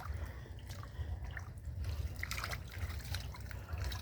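Water sloshes and trickles in a tub on a small farm as manure is crushed and mixed in for an azolla bed, giving soft, fairly close splashes and dribbles over a low steady rumble.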